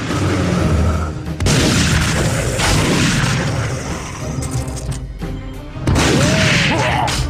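Loud booming weapon blasts from a Free Radical Design shooter, with laser sighting aimed at ghoulies; repeated heavy bursts and crashes come in clusters with short gaps between them.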